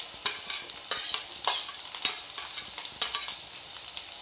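Onion, ginger, garlic and green chilli frying in a little oil in a home kitchen pan, with a steady sizzle and repeated stirring scrapes of a spoon against the pan, close and alone.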